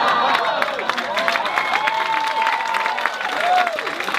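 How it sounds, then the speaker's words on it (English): A stand-up comedy audience applauds in a steady wash of clapping with some cheering mixed in. It sounds fairly loud and continuous throughout, and a voice speaks over it. "You guys are good clappers."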